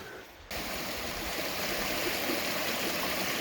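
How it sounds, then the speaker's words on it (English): A small mountain stream on Mount Hood's Timberline Trail rushes and burbles in a constant close wash of water that swells in suddenly after a quieter first half-second, steady and unbroken. "Nice little stream to filter some water out of."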